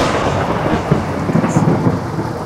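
Thunder rolls loudly through a rainstorm, a deep rumbling crack over the steady hiss of falling rain, close and dominant for the whole short stretch with no voices.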